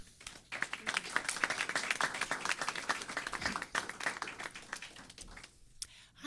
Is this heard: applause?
yes